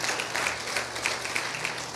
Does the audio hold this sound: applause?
yes